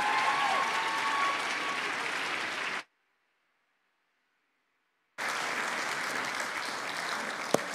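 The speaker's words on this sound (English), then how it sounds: "can we get one more applause for every person that's been baptized today" Church congregation clapping after baptisms, a full, sustained burst of applause that cuts out abruptly to near silence for a couple of seconds, then resumes just as strongly.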